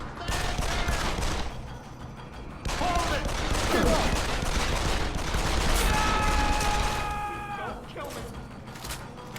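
Gunfire in Deus Ex: Human Revolution, with bursts of shots and rapid automatic fire that sound close and loud, along with metallic mechanical tones and chimes, while a voice talks over the action.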